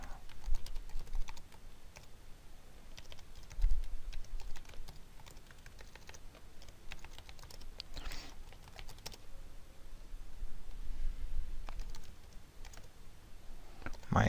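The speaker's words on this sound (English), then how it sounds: "let me type that command" Fingers typing a command on a computer keyboard, a steady run of quick, close key clicks with brief pauses and a few heavier strokes over about fourteen seconds.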